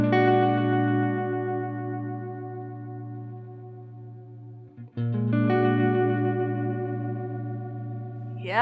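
Guitar played through a Red Panda Raster 2 pedal on a reverse envelope setting, sustained chords swelling with chorus-like modulation and echoes that speed up, a brief dropout near the middle, then the washy tone returns.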